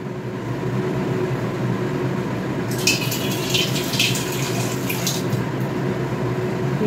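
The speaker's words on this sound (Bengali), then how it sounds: "ডিমটা সেদ্ধ হচ্ছে," An egg boiling in a pot of water on a home kitchen stove gives a steady, continuous bubbling roar, with a brighter hiss of rolling bubbles rising midway through and holding.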